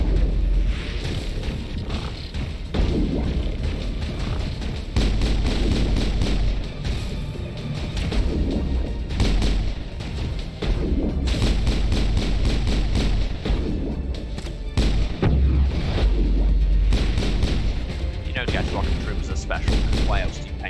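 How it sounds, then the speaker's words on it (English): A dense firefight in the video game Mass Effect: near-constant gunfire mixed with heavy booming explosions that stays loud throughout, with a voice speaking over parts of it. "now for a firefight where I don't have a rocket launcher"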